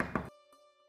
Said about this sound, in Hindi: ये लीजिए ढक्कन रख दिया